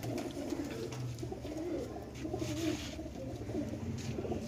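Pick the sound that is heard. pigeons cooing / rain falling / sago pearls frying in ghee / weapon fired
pigeons cooing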